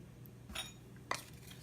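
Eggs, honey and vanilla extract being stirred together in a bowl, heard as two quick, faint clinks of a utensil against the bowl in an otherwise quiet kitchen.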